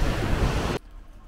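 A loud, dense roar from a nearby waterfall in the cold Norwegian outdoors, cutting off abruptly after under a second.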